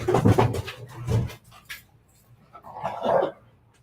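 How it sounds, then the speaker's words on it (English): A puppy barks in a few short, close yips, followed by a softer whimpering sound after a quiet pause, with no talk. "it looks like we got the puppy now"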